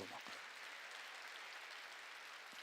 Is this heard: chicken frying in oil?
no